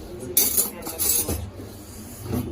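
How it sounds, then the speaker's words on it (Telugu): A spoon stirs dosakaya pachadi, a yellow cucumber chutney, in a bowl, giving a few light metallic clinks and scrapes over soft background noise, with no talking. "ఇప్పుడు ఒక స్పూన్ తీసుకొని అంతా కలిపేసుకోవాలి"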